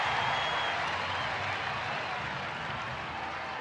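A baseball stadium crowd roars and applauds in a sustained wash of cheering after a Kansas City Royals walk-off win, loud and even throughout.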